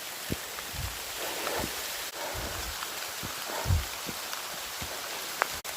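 Constant hiss of hail pelting the ground, with scattered sharper taps and thumps of stones landing nearby; no voices.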